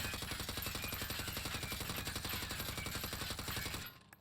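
Sustained automatic gunfire in Warzone as a weapon is fired at a wall, a loud unbroken stream of rapid shots for about four seconds that cuts off abruptly at the end.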